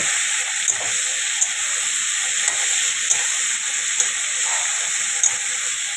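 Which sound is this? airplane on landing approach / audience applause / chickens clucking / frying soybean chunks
frying soybean chunks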